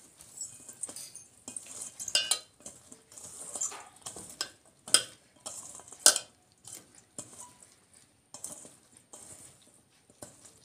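Round-cut bitter gourd slices being tossed and mixed by hand with salt and turmeric, a series of close, soft, irregular rustling and clinking strokes with brief pauses and no talking.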